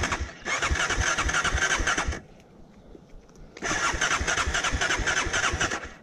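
A flooded Honda XR650 motorcycle engine trying to start: two loud, close bursts of cranking and sputtering revving with a quieter gap of a second or so between them.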